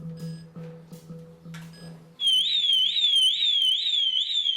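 A home burglar alarm siren sounds during a system test after newly installed equipment, a loud piercing warbling tone that kicks in abruptly after a few faint knocks and keeps cycling close by.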